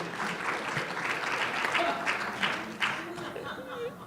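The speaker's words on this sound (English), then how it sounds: "You can clap." An audience at a talk on creative placemaking claps steadily throughout, a sustained round of applause in a hall with faint voices underneath.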